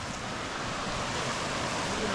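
River water at a campsite in Alfonso, Cavite rushes in a steady, broadband roar, close and continuous, with some wind buffeting the microphone and no clear speech.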